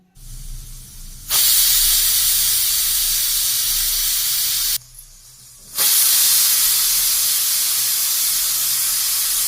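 A pressure cooker cooking green mung beans vents in two long, loud hissing bursts, cut off briefly in between, with a quieter low rumble underneath.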